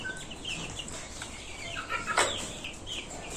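Brahma and local chickens cluck and call close by in a quiet coop, soft scattered clucks with one sharper squawk near the end.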